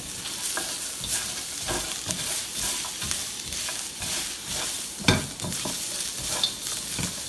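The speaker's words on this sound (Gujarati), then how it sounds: "હવે આપણું કેરેટ્સ, ગાજર અને સેલરી એકદમ ફાઇન રીતે રંધાય છે અહીંયા" Carrots and celery stir-frying in oil in a pan for glass noodles with beef make a steady close sizzle, with repeated spatula scrapes and stirring knocks throughout and no voices.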